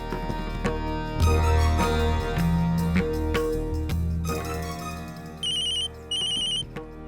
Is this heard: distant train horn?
no